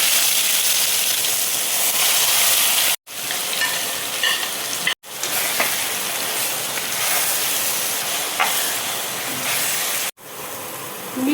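Cabbage tipped into hot oil tempered with black cumin for a Bengali bandhakopi ghonto, giving a loud, steady, close sizzle and hiss of frying that runs throughout, broken by a few brief silent gaps.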